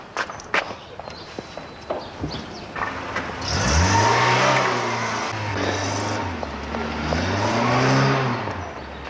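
A car's engine rises and falls as it pulls away, with footsteps and light knocks before it, in a French street scene outside a town hall.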